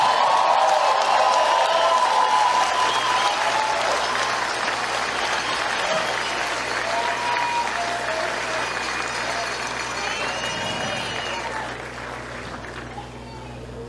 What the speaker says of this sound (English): Give him a hand, give him a round of applause.